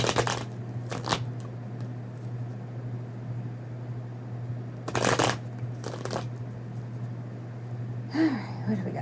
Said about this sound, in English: let's do a few shuffles and get to it